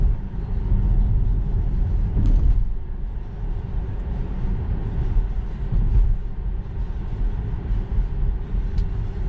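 A Tesla electric car cruising along, heard from inside as a steady low road rumble and tyre hum that stays even throughout, with no voices.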